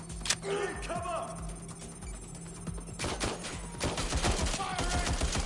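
Gunfire crackles in bursts during a firefight in Watch Dogs: Legion, sharp repeated shots spread across the scene beneath overlapping voices.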